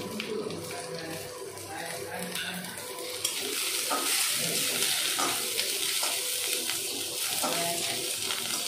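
Curry leaves and chopped green chilli sizzle in a pan with frying onions for an oats upma, a steady crackling hiss with stirring scrapes that grows louder partway through.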